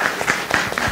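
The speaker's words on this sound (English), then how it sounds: "that deserves an applause" Short burst of audience applause for a panelist during a group discussion, heard as a quick run of overlapping claps with a crowd rumble underneath.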